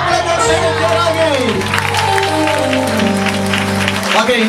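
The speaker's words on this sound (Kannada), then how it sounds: "ಚಪ್ಪಾಳೆ ಜೋರಾಗಿ." An Easter Sunday church congregation applauds loudly under sustained singing and instrumental tones, with crowd noise and voices mixed in.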